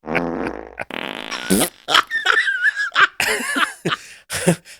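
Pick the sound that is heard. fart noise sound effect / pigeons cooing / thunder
fart noise sound effect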